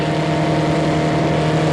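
Formula Vee race cars run nose to tail at a 1987 trophy race in Adelaide, their engines a steady, loud droning roar without a break.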